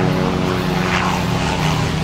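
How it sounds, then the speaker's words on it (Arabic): A helicopter or airplane passing overhead above a jungle, a loud, steady droning engine hum throughout the short stretch. "هنالك هليكوبتر أو طائرة تطير في الأعلى."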